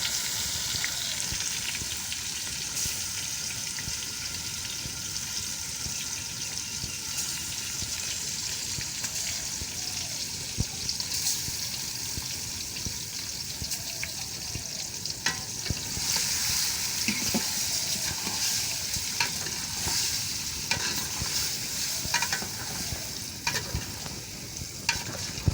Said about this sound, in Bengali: মশলা দিয়ে তেল দিয়ে নাড়া হচ্ছে।